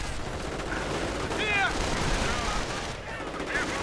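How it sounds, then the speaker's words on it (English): Mortar fire and dense small-arms shooting fill a battle in a one-on-one strategy video game, a loud, unbroken barrage of overlapping blasts and rattling shots with no clear pauses. "the blind firing of the mortar actually did some damage to the right"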